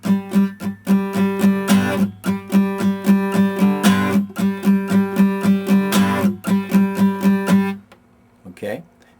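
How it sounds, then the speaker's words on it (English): Strummed guitar with a left-hand mute on the 1 beat, a steady run of bright ringing strums broken by regular choked, muted beats, close and loud, then dying away into quiet. "Now if I'm strumming along and I want to get a mute on the 1 beat, it's going to sound like this."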